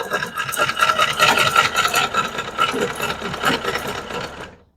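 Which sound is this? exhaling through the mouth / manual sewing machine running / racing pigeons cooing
manual sewing machine running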